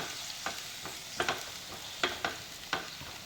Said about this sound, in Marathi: आता व्यवस्थित एक मिनिटभर हे तेलात छान परतून घेऊया मसाला